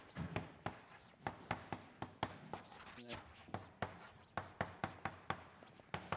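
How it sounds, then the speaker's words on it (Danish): Marker or chalk writing on a board during a university introductory mathematics lecture: a steady run of crisp taps and short scratches, close and fairly quiet, with faint room noise between strokes. "Så lad os skrive det igen."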